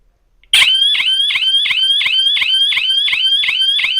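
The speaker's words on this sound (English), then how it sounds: "Now, in this third clip, we added the siren, and we also use the ruler to trigger the alarm." A laser tripwire alarm's siren blares loud and close in a fast, regular whooping pattern of about eight rising electronic pulses that cut in abruptly after a brief silence and carry on alone.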